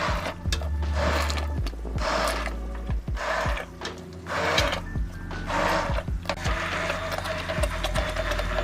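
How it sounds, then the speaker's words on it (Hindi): Kitchen blender puréeing spinach, with a steady low motor drone and repeated rhythmic whirring surges, loud and close throughout. "अब हम ब्लेंडर की मदद से पालक को ब्लेंड कर लेंगे।"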